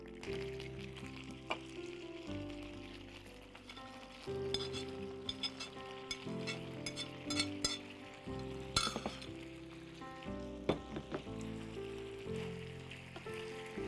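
Chaat ingredients being mixed with vinegar in a bowl, soft irregular clinks and scraping stirs under a sizzling, music-like background that runs throughout.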